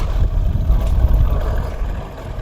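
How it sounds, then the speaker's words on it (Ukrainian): A tractor's low, steady engine rumble chugs along nearby, a heavy motor droning without pause and fading slightly toward the end. "Їздить трактор"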